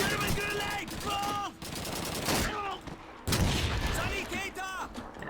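Gunfire in Call of Duty 2, a World War II shooter, with bursts of rifle and machine-gun shots crackling across the battle, mixed with shouted voices and game sound effects at a steady, loud level.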